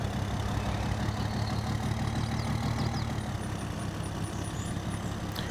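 A pickup truck's upgraded engine in Farming Simulator 22 drones steadily as it cruises down a road, a constant low engine hum with little change, no talking.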